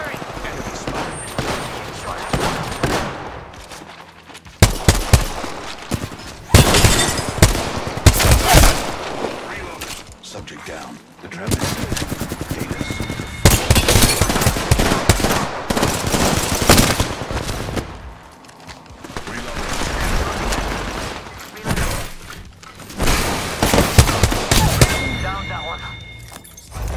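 Bursts of automatic weapon fire from the Apex Legends battle royale game rattle loudly in repeated volleys with brief pauses, mixed with impacts and game voice callouts.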